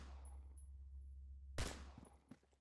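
A single loud gunshot fired in the video game Phantom Forces, sharp and close, followed by a couple of fainter clanks over a steady low hum.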